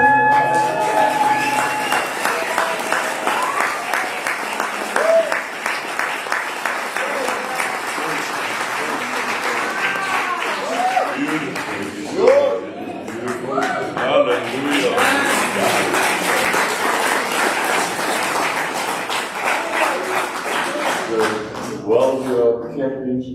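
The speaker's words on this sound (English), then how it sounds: "While you are clapping" A church congregation claps during a sermon, sustained rhythmic applause with some voices calling out beneath it, briefly dipping near the middle before swelling again and carrying on to the end.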